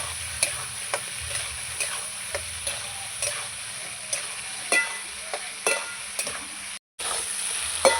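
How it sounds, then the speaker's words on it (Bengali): Tomato and spices sauté in a pan with potatoes for a duck egg curry, giving a steady low sizzle broken by sharp, regular spatula clicks and scrapes against the pan, with one brief dropout near the end. "টমেটোটা দিয়ে দেবো টমেটো এবার আমি আবার কষাবো"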